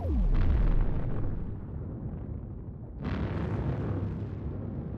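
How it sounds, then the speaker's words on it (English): Missiles and battleship weapons fire in a space strategy game, producing heavy rumbling explosions that open with a descending whoosh, and a second sharp blast about halfway through, loud and rolling. "they're getting rounded up by the missiles from one side, even if they have a lot of point defense shooting there"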